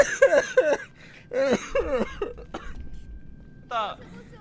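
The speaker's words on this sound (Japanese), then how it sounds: "咳しすぎて吐血の味がする。" Repeated harsh coughing and throat clearing from one person, several quick bursts up close, with talk mixed in among the coughs.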